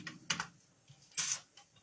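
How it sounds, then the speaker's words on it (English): Fast typing on a computer keyboard, a few quick clustered key clicks in under two seconds, close and fairly faint, with no voices. "Typing too fast, Marcus."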